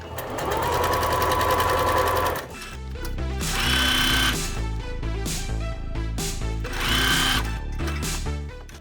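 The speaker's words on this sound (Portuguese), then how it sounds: "agora nós vamos passar para a máquina para poder fazer essa costura aqui da nossa boca do puxa-saco" Electric sewing machine stitching the fabric drawstring casing of a bag, running in loud steady bursts with brief pauses between seams, close and alone.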